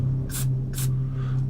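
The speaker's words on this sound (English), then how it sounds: "You get your silicone spray," Silicone spray hisses onto kitchen roll in two short, close bursts over a steady low hum, used to clean and maintain a GHK G5 airsoft gun.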